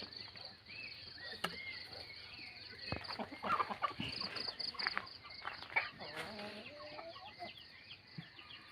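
Chickens cluck and call intermittently in a rural vegetable garden at the forest edge in the morning, fairly distant and mixed with insect chirping and soft outdoor ambience.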